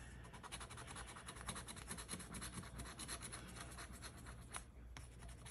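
A lottery scratch-off ticket is scratched with a rapid, continuous scraping rasp, close but quiet, with no talking over it.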